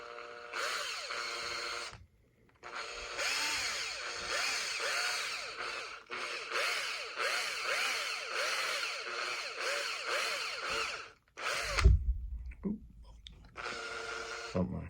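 A power drill bores holes in a plastic part of a Huina 583 RC loader, running in long steady bursts with brief pauses between passes, close and loud, with a thump of handling near the end.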